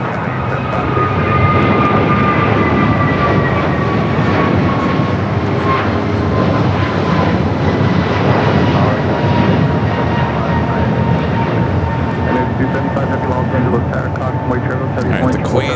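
A China Eastern heavy jet takes off from runway 25 right at LAX, its engines producing a loud, steady roar with a rising whine that holds throughout, and talk can be heard faintly underneath.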